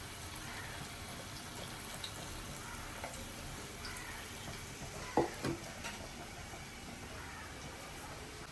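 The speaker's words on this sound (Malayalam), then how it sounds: "അപ്പൊ ഞാൻ അതാ വറുക്കാൻ പോകുന്നു" Chicken for Kerala-style chilli chicken frying in hot oil makes a faint, steady sizzle, broken by a couple of brief clinks midway.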